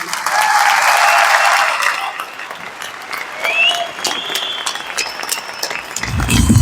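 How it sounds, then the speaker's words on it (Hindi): An audience at an anniversary gathering breaks into loud, sustained applause that fills the hall, dense clapping holding steady and then thinning slightly toward the end. "तो न्यूट्री चार्ज के लिए एक बार तालियां बजाएंगे हम।"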